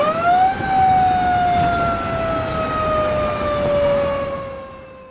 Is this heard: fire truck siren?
yes